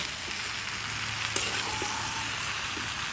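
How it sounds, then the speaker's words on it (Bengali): Eggplant pieces frying in oil in a pan over a clay wood stove, a steady hissing sizzle with a few scattered taps and scrapes from stirring, close and moderately quiet. "এখন আমি বেগুনগুলাকে দিয়ে দিব, দিয়ে এবার এটা আমি খুব ভালো করে কষিয়ে নিব।"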